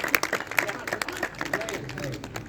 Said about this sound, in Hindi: ताली बजाओ आप